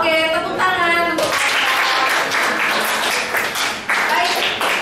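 A classroom breaks into applause after a brief sung or hummed tone at the start, clapping rising suddenly and continuing busily before fading slightly near the end.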